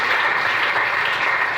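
A church congregation at a deliverance service clapping in a dense, steady burst of applause, loud and sustained without talk.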